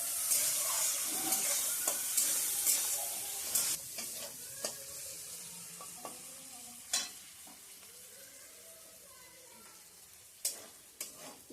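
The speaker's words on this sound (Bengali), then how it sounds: "চিংড়ি মাছটা ভেজে নিয়েছি ভালো করে" Prawns frying in hot oil with onion and chili, a steady sizzle broken by sharp clattering stirs of a spatula in the pan, close and fairly loud, with no talking.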